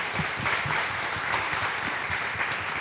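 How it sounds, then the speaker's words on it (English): An audience at a presentation about places over time applauds steadily, a dense wash of clapping that stays fairly even and continuous for a few seconds. "a special round of applause for Abby, who made all of this possible."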